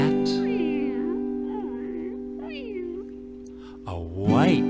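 A cartoon cat meows several times in a row, wavering rising and falling calls over a steady musical drone, ending with a louder, sharper meow.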